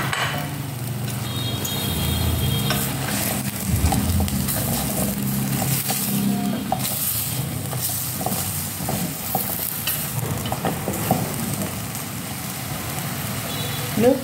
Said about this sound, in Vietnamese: Xào cho cái phần thịt nó thăm lại các bạn nhé.